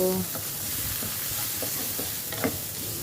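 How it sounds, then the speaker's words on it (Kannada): Onion frying in a pan over a high flame for broccoli rice, giving a dense, loud, constant sizzle with a few soft stirring taps and no speech. "ಸೊ ಆನಿಯನ್ ಸ್ವಲ್ಪ ಪಿಂಕಿಶ್ ಆಗ್ತಿದೆ, ಮೇ ಬಿ ಫ್ಲೇಮ್ ಹೈ ಇತ್ತೇನೋ ಮುಂಚೆ. ಸೊ ಅದಕ್ಕೆಲ್ಲ ಈಗ ಫ್ರೈ ಆಗ್ತಿದೆ"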